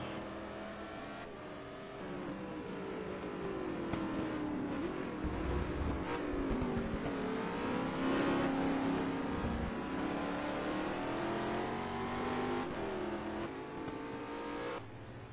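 Touring race cars in the ETC Black Cup at the Nürburgring roar loudly, engines revving and pitch rising and falling as they accelerate and pass, a continuous, dense mechanical drone.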